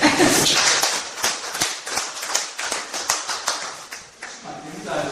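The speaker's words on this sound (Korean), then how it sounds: "박수 한번 주세요" Audience applause in a university lecture hall, with a small group's rhythmic clapping in distinct bursts, fairly close, mixed with some voices.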